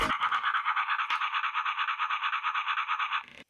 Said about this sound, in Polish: Ona myje zęby!